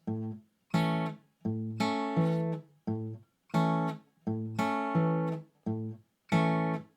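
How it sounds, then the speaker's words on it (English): Fingerpicked guitar plays a rhythmic eighth-note pattern of plucked chords in short bursts, each group separated by brief silences. "we'll do a little eighth note thing that sounds like this."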